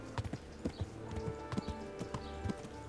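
Horse hooves clip-clopping in the Kingdom Come Deliverance video game, a steady rhythmic series of close, fairly loud hoof strikes over low ambient game sound.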